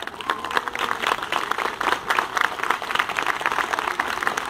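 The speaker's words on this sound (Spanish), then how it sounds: "Un aplauso." An outdoor gathering in Miraflores applauds after a performer's story, uneven moderate clapping with individual claps standing out, somewhat distant and without talk.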